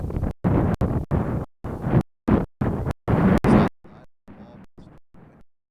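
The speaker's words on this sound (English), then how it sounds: "to show you how strong the wind is today" Strong gusting wind buffets the microphone at an outdoor softball field during a college regional game, with loud rumbling bursts that cut in and out and then weaker, fainter gusts near the end.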